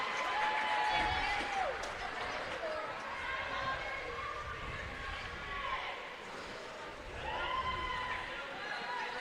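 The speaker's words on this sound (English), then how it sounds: "It's a thunderous applause from both crowds because Northfield is just ready to get going." Both home and visiting crowds at a girls' hockey game break into sustained applause and cheering in an arena, a broad wash of clapping that swells and ebbs for several seconds while an announcer speaks over it.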